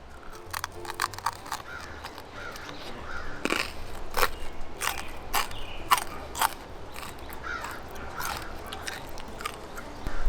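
Crispy air-fried pork belly skin being bitten and chewed, giving a run of sharp, close crunches and crackles through the clip with no talking.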